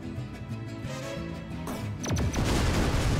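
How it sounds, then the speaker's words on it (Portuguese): A loud burst of explosive sound effects from the tank game Shellshock Live, a sharp crackling blast with descending whistling tones, bursting out after a stretch of steady background music. "Vai explodir, deixa eu ver a explosão."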